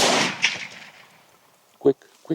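A rifle shot fired while hunting buffalo on the African plains opens with a loud blast that decays into a long echo, followed by brief voices.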